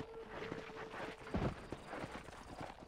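A horse in Red Dead Redemption clops along at a walk, its hoof beats steady and fairly close against a faint ambient background, with a brief low snort or thud midway.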